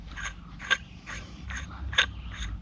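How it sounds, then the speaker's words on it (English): A survival hatchet's hollow handle tube being unscrewed from the axe head gives short, gritty metallic scrapes and clicks of the threads, about five bursts a half-second apart, close and fairly quiet. "Let's unscrew this tube."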